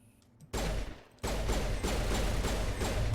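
Rapid automatic gunfire in the sci-fi shooter Mass Effect, fired at zombie robots, starting after a quiet moment, with a brief pause before a sustained, steady burst.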